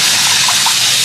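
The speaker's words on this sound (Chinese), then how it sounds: "加水" Water pours into a pot of stir-fried hotpot base, a steady close gushing splash lasting about a second with no talk.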